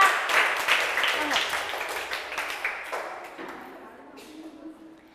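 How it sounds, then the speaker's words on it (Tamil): A group applauding, a burst of clapping that starts loud and gradually thins out, with voices murmuring underneath. "இந்த குழுவுக்கு திரும்ப கை தட்டுங்க நல்லா"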